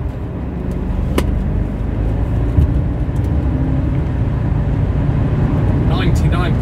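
A BMW car with Valvetronic accelerates in third gear, steady engine drone and road rumble rising slightly, heard from inside the cabin at constant loudness.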